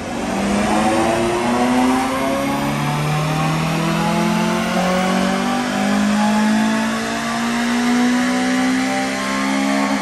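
A Honda Civic FN2 Type R on a dyno runs a stock power pull, its engine revving loud and close with a steadily climbing tone that sweeps up through the gears without a break.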